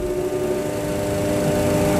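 Boeing 737 Classic jet engines spooling up for a crosswind takeoff, a loud steady whine with strong tonal hum that builds slightly over two seconds.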